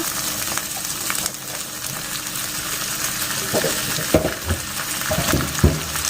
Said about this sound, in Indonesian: Saya aduk-aduk. Harum banget. Nah, lalu saya masukin sayurnya.